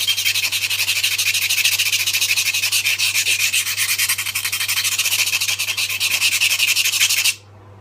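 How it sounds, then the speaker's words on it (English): A Work Sharp powered knife sharpener grinds a hard-to-sharpen knife edge with a continuous, close, raspy abrasive hiss over a low motor hum, stopping abruptly near the end. "that's a real test for that sharpener, because this knife is a real bitch to sharpen"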